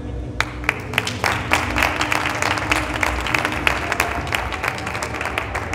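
An audience at a theatre book-launch presentation in Madrid applauds with dense, steady clapping that holds at a moderate level throughout, with no talk over it.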